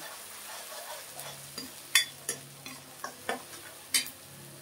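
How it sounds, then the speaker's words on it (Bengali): Onion, green chilli and garlic paste frying in a pan for Bombay duck curry, a soft continuous sizzle punctuated by about eight sharp spoon clinks and scrapes against the pan, close and fairly quiet. "আমি পেঁয়াজ, কাঁচা লঙ্কা আর রসুন পেস্ট দিয়ে দিলাম লোটে মাছের জন্য"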